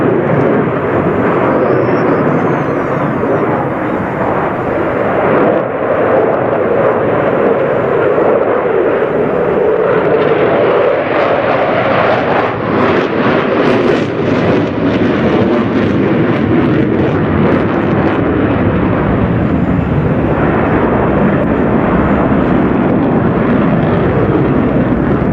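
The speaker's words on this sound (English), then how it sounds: "The Typhoon carved a perfect circle in the sky, then flowed into a barrel turn, combining roll and change of direction" Eurofighter Typhoon jet flying air display manoeuvres at NATO Days and Czech Air Force Days, a loud, continuous roaring jet rumble that surges and shifts in intensity throughout, with no talk.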